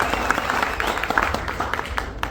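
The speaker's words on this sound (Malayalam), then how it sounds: "ഒന്നുകൂടി ഉഷാറായിട്ട് കൈയടിച്ചോ." A theater audience at a film screening claps, a dense continuous patter of many hands at moderate level, with a voice talking over it.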